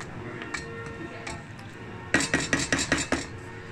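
Mushroom risotto being churned with butter, broth and cheese in a pan, a quiet start followed by a run of rhythmic spoon clacks and scrapes against the pan.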